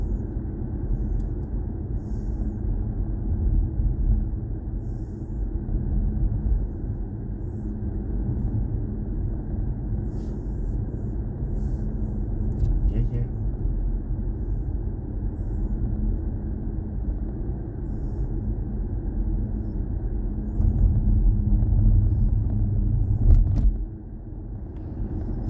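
A BMW i4 M50 electric car out on a drive gives a steady, low road and cabin rumble from the inside. It holds evenly throughout and swells slightly louder near the end before easing off.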